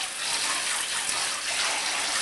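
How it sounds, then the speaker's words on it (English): A puppy in a bathtub during a bath, with continuous sloshing and splashing of bathwater filling the clip, close and steady with no talk. "Stop drinking the water"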